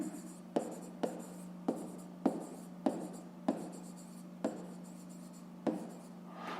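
Pen on paper while working a fifth-grade math exercise: a series of short, quiet, regularly spaced scratching strokes, close by and without talk.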